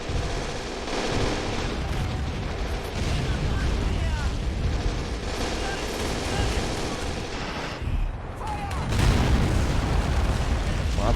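Explosions from enemy tanks and artillery in a World War II strategy video game set during a 1943 Stalingrad retreat, a dense continuous roar of booms and blasts with voices beneath.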